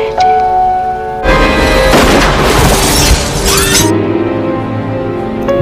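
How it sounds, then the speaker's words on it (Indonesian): A single loud, sharp gunshot in a film bursts out and rings through a few seconds of crashing noise before falling back to a quiet background hum. "beruntung tembakan tersebut hanya melukai lengannya John."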